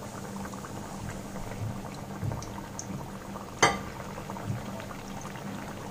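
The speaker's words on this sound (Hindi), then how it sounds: "कचौरी को हमें लो टू मीडियम फ्लेम में फ्राई करना है।" Moong dal kachori deep-fry in medium-hot oil over a low to medium flame, giving a steady bubbling hiss with one sharp crackle partway through; no talking.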